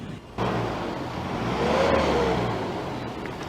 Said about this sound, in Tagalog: Kahit bombahin ng driver nitong modern jeep yung gasolina, dito sa Tambucho, hangin na lang na hindi nakikita yung inilalabas ng sasakyan